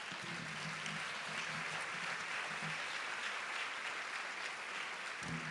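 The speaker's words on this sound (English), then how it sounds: "let's give a round of applause to all the women in our lives" A lecture audience breaks into steady, even applause that stays constant throughout, heard from a distance without any single claps standing out.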